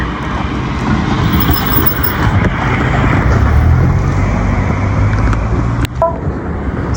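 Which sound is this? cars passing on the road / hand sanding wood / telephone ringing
cars passing on the road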